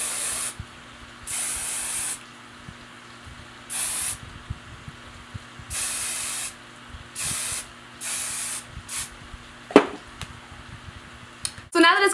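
Hairspray hisses onto a styled high half ponytail in short bursts, several spaced puffs of roughly a second each, close and clear, with a faint sharper sound near the end.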